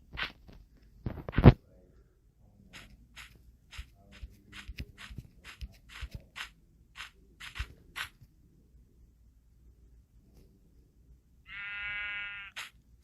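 A Minecraft sheep lets out a single clear bleat near the end, following a scatter of soft in-game footsteps and clicks over quiet background.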